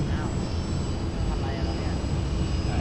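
A radio-controlled trainer model airplane flies overhead with a continuous, even motor drone that holds steady for the whole stretch, with no talk.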